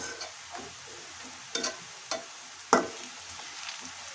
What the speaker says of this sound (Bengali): সো এই এতটুকু পেঁয়াজের ওপরে আমি এখন মশলাটা কষিয়ে নিব।